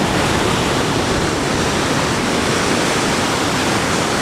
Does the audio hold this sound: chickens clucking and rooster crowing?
no